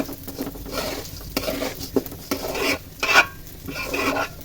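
Raisins and nuts frying in a pan are stirred with repeated scraping strokes and light utensil clinks over a soft sizzle, the stirring coming in uneven bursts.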